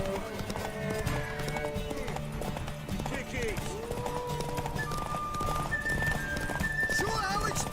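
Horse hooves clip-clop in a steady running rhythm with loud whinnies in The Witcher 3 video game, layered under game music and a man's speech throughout.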